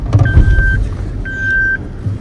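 A Suzuki Jimny rumbles along off-road with a low, bumpy engine drone and two steady electronic beeps ringing out over it.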